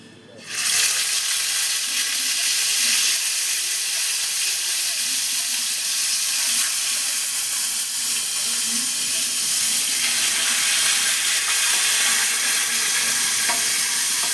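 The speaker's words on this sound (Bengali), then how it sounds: "আমি মাছটাকে ভেজে ফেলি। দেখো, মাছটা ভেজে ফেলছি।" Rohu fish pieces frying in hot oil in a kadai give a loud, steady sizzle and hiss that starts abruptly and holds for the whole stretch, with no talk over it.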